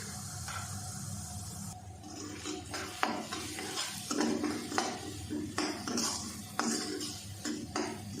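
Semolina and cardamom pods frying in ghee over low heat, stirred steadily with a spoon in a pan, giving a soft continuous sizzle with repeated scraping and light metallic clinks, close and fairly quiet.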